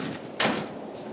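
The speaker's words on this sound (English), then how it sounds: "Inside of the cab, open up the door here." The cab door of a Komatsu PC210LCi-10 excavator swings open with a single short latch click and brief scrape, heard against a steady low background hiss.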